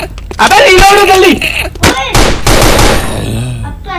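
Bursts of rapid gunfire in a shooting video game, loud and close, cutting in and out between excited shouting voices.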